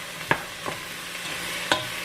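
Food stirred in a pan while it cooks down, with a soft sizzle underneath and a few distinct scraping strokes of the utensil against the pan, near and alone.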